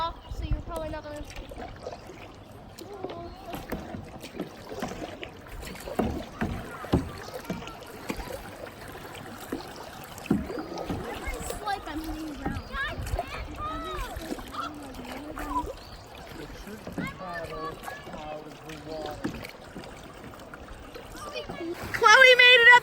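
Kayak moving through the rapids of the Lamprey River in Lee, New Hampshire, with splashing and trickling water and paddle strokes beneath frequent talking and shouting voices, with a louder splash at the end.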